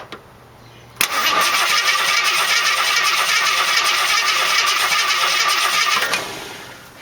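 A 1968 AMX with a 401 V8 and go pack fires up after a second of quiet, then roars loudly and steadily for about five seconds before cutting off.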